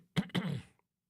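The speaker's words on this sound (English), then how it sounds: "Had to clear my throat so I could clear my brain." A man clears his throat in two quick rough bursts, the second longer and trailing off, close and fairly loud, alone with silence after.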